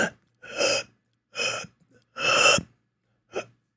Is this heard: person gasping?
yes